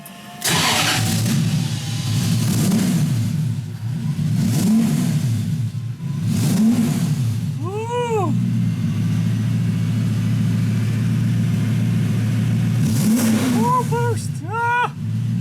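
Toyota 1UZ turbo V8 fitted in a Nissan 200SX, starting and idling loudly up close, with several sharp revs rising and falling, voices talking over it.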